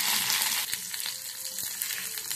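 Capsicum sizzling and frying in a hot wok for gobi manchurian, a steady broadband hiss with a few sharp stirring clicks, close and fairly quiet with no talk.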